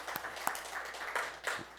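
A church congregation claps in welcome, a brief, dense patter of applause from a crowd in a room, fairly close and steady throughout.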